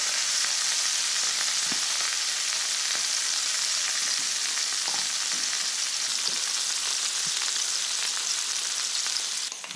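Trout fries in a pan with fresh squeezed orange juice, a loud, steady crackling sizzle with scattered pops throughout.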